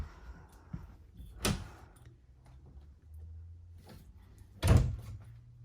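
RV bathroom door in a 2021 Wolf Pack 315Pack12 fifth wheel toy hauler, giving two solid thunks, a lighter one early and a louder knock near the end, over a quiet room.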